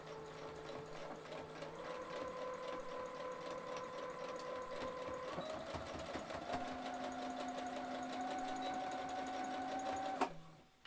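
Sewing machine running steadily at close range while stitching a fabric wine bag, a continuous mechanical whir with shifting pitch that stops abruptly near the end.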